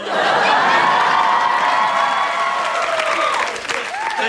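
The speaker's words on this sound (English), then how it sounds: "People in the stand and clap your hands." A crowd of spectators in the stands cheers, with clapping and whoops under a sustained roar at close range, fading slightly toward the end.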